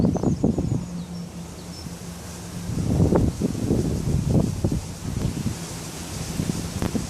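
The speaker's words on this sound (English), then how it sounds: "Pretty overcast, the wind's up." Wind gusts buffet the microphone outdoors at an overcast fishing spot, a steady rushing noise with rustling and rumbling surges and no talking.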